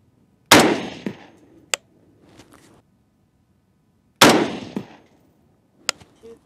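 Two loud, close .224 Valkyrie rifle shots fired at a 100-yard range, several seconds apart, each followed by a short echo decay and small metallic clinks, with no talking.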